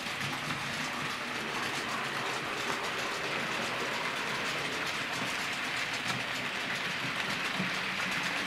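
A Bachmann model Class 47 diesel locomotive in EWS livery pulls freight wagons around a model railway layout. Its wheels and motor give a steady, quiet mechanical whirr and rhythmic clicking of rail joints that runs evenly throughout, with no voices.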